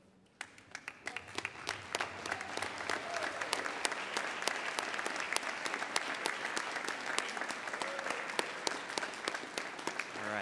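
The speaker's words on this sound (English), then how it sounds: "can we please take a moment and stand up again and acknowledge and applaud those who are here for you today" Graduates at the Millikin University spring commencement ceremony applaud their families, a large hall filled with dense, sustained clapping from many people that stays steady for the full span.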